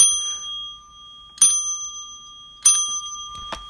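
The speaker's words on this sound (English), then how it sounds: "That is my coffee" A small coffee bell rings with a bright, sustained metallic ding, struck three separate times about a second apart, each ring clear and close and hanging on between strikes, with no talking.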